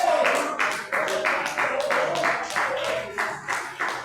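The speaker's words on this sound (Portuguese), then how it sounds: "Pode louvar o Senhor com as palmas." A church congregation claps in steady rhythmic unison in praise, about two claps per second, over faint background singing or voices.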